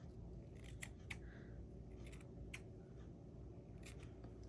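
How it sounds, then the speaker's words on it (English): Scissors make several quick, faint snips while trimming stray yarn on pom pom bears, heard close over a steady low background hum. "I like to just trim them up and make them pretty"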